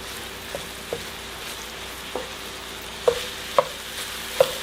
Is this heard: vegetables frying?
yes